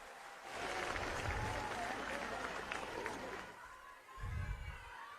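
A crowd at a political rally claps loudly and steadily for several seconds, fading briefly before a second burst of applause, with a voice shouting over it.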